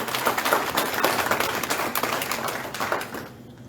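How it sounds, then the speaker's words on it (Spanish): A church congregation applauding during a service, lively overlapping clapping from a modest crowd, moderately loud, fading out toward the end with no talk over it. "denle un aplauso al Señor entonces por eso"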